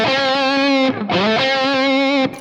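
Electric guitar lead lifted by a slight boost from an ENO AD-6 analog delay pedal, sustained distorted notes with a quick bend and slide between them, loud and close, no voice.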